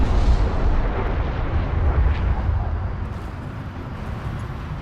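Heavy, rumbling explosions from an airstrike roll on continuously in the video game Homeworld: Deserts of Kharak. The blasts are dense and booming, and they fade slightly toward the end.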